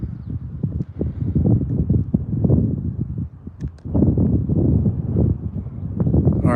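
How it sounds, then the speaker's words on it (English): Strong wind buffeting a microphone outdoors during a solar eclipse viewing in Oregon, loud uneven low rumbling gusts that rise and fall throughout, no talk. "It is windy out here"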